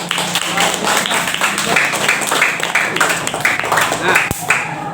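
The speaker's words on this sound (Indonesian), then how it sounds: "Ya, tepuk tangan ya." Classroom clapping during a lesson on the obligatory daily prayers, a run of rhythmic claps in a steady beat with voices mixed in, close and fairly loud.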